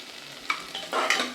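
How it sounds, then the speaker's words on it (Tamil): Carrots, beans and potato with garlic, tomato and dal being stirred and sautéed in a pan for vegetable rice, with a few scraping strokes and a steady soft sizzle close by, no talking. "பருப்பு சேர்த்துக்கிட்ட காய்கறியை இதை நல்லா வதக்கி விட்டுலாம்"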